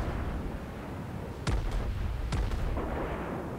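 Battleship gunfire in a naval video game, two heavy booming salvos about a second apart over a dense rumbling battle background, loud and close with no talk.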